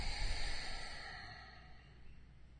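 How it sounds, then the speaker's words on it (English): A single long, deep exhale during a guided meditation, soft and breathy, close to the microphone and fading gradually, with no other sound. "And exhale."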